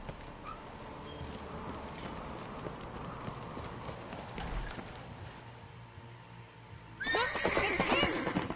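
A horse neighs in a PS4 video game during a chase, with a busy game-sound bed of hooves and ambience and a louder whinny near the end.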